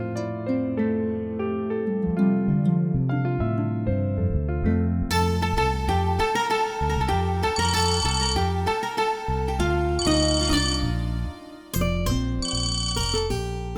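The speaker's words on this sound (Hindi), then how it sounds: "वीरेन जी का फोन।" A mobile phone plays a loud, melodic musical ringtone that continues for the whole stretch, a bright tune with steady rhythm briefly cutting out near the end.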